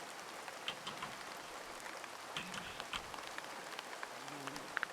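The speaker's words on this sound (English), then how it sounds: "It's raining." Steady rain falls over a garden, a dense patter of drops on surfaces with a few sharper taps standing out, fairly faint and continuous with no voices.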